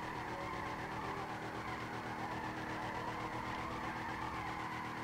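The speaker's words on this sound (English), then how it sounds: "Come on, let's try and get a good drift." In Grand Theft Auto V, a Slamvan pickup truck drifts sideways with a continuous tire squeal over a droning engine, loud and sustained throughout without any talking.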